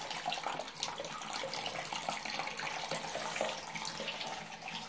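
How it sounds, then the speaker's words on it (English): Steady stream of water running from a restroom tap into a sink, a continuous broadband rush that stays even and close throughout with no pauses. "turn on the water."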